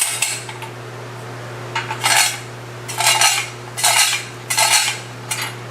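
A hand-cranked food mill with two blades pushing fire-roasted tomato soup through a perforated plate, giving five scraping, clattering bursts at a steady rhythm over a low steady hum.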